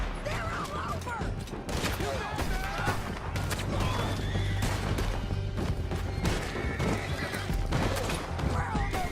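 Horses whinny and hooves clatter amid chaotic battle noise in the video game Red Dead Redemption 2, with gunfire cracking repeatedly and voices shouting, loud and busy throughout.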